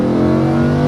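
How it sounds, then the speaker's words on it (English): A Lamborghini Huracan LP580-2 engine at full throttle gives a loud, close, steady harmonic roar that fills the whole short moment without a break. "That's full throttle."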